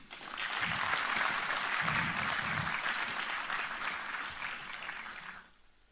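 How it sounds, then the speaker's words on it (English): A hall full of people applauds dignitaries at a government ceremony, steady hearty clapping that swells in quickly, holds strong for several seconds, then drops away abruptly at the close. "Heartily welcome to all of them with a huge round of applause, please."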